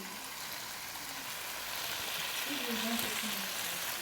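Oxtail stew simmering in a pot gives a steady soft sizzling, bubbling hiss that stays close and even throughout, growing slightly louder toward the end.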